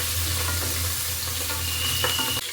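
Green chillies and ginger sizzle in hot oil in a pan, a steady close frying crackle with faint stirring, cutting off just before the end.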